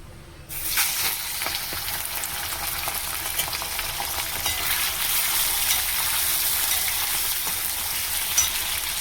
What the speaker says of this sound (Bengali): তেল দিয়ে দিচ্ছি, সরষে তেল। চিংড়ি মাছ দিয়ে দেব, চিংড়ি মাছটা দিয়ে দিচ্ছি।